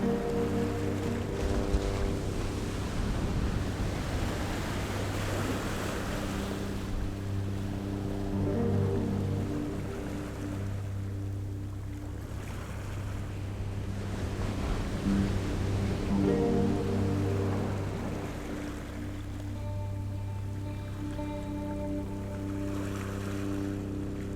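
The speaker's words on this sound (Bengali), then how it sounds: "এখান থেকে সমুদ্রের গর্জন শোনা যায়" The sea roars at Vijaynagar beach on Havelock Island as a low, rumbling wash of surf that swells and fades in slow waves, with a steady hum running underneath.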